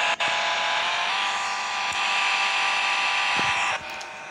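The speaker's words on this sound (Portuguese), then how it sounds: "Vê pelo barulho desse carro." A car engine drones in a Roblox video game, a steady loud buzzing whine held throughout with brief dips and a drop near the end.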